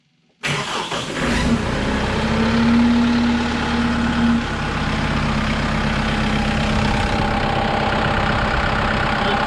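A Kubota M6060/7060 tractor diesel engine cranks and catches after a full service, then idles steadily and loudly up close with a low, even rumble.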